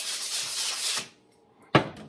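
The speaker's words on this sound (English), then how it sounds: "So you're basically just sanding it." Steady, gritty sanding rubs against a rough kiln-fired ceramic piece for about a second, then a pause and one short, sharp scrape.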